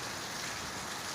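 Rain pours steadily during a storm, a continuous even hiss of falling water with no voices and no pauses.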